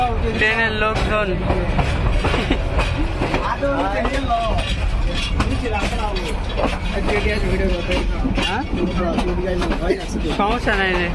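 Rattling rail noise from a train runs steadily beneath constant overlapping chatter and voices of a busy crowd, with several people talking loudly up close the whole time.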